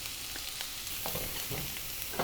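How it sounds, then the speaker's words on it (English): Cabbage hits vegetable fried rice in a hot wok and sizzles, a steady broad hiss of frying with a few soft stirring scrapes close by and no talk. "Let's add in our cabbage."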